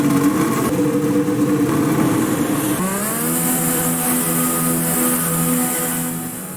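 Formula 1 car engine in the F1 2020 racing game, a loud continuous high-pitched whine with harmonic revving that drops on a gear change and then climbs again, heard alone with no talk.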